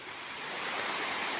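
Sea waves wash steadily onto the shore in a continuous close, broad hiss with a touch of wind, with no pauses or talk.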